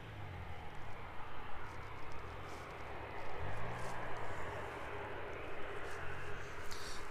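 A West Atlantic cargo aircraft taxiing toward the viewer at an airport, a steady low engine rumble and hum that swells slightly as it nears, with broad roar and faint higher whine over a continuous drone.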